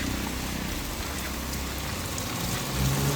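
Heavy rain pours down steadily during record flooding in Jaffna, a dense continuous hiss of drops on surfaces with a faint low rumble underneath and no voices.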